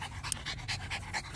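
Dogs pant steadily in quick, rhythmic breaths while out on a walk across a grassy area, close by and clear with no talking.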